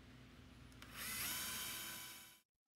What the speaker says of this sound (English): which are then drilled through the slide using a 1/4-inch bit